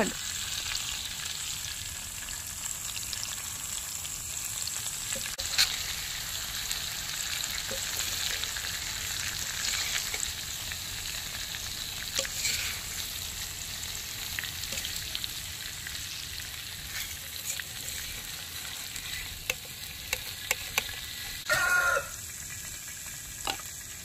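Croaker fish frying in hot oil for a Mangalore-style masala fry, a loud continuous sizzle and crackle throughout with occasional utensil clinks.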